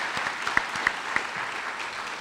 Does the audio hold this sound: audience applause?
yes